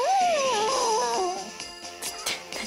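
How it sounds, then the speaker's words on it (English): A cartoonish dog voice from the video game Moco Moco Friends produces a warbling, whining howl that wavers up and down, followed by a few short yips and clicks, clear and close with no talking. "The dog sounds extremely weird."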